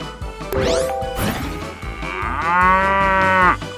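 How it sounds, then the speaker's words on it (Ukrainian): A Furby toy gives a long, drawn-out synthetic moo like a cow, preceded by short chirpy electronic sounds, loud and close. "Навіть корова"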